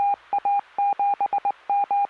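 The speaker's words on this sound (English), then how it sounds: "This is Morse code." Morse code beeps: a steady high tone keyed in short and long pulses of irregular rhythm, loud and clear with silence between them and no talk over it.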